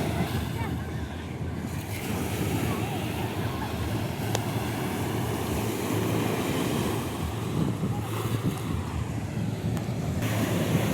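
Steady wind blows on a breezy open-air spot where a cat lies resting, a continuous broadband rush with surf-like swells, loud and unbroken throughout.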